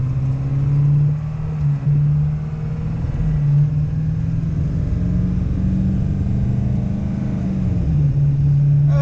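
A 7.3 Powerstroke diesel truck engine heard from inside the cab, a loud, steady low rumble with a throbbing drone and slight shifts in pitch as the revs change.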